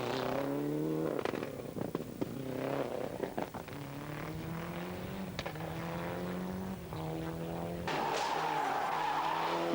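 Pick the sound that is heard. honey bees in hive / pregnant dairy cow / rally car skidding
rally car skidding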